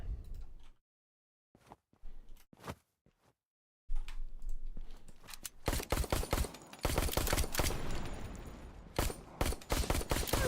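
Pistol shots in a video game still in development, fired in quick bursts of sharp, loud cracks, sparse and separated at first, then a dense run of rapid shots over steady game noise.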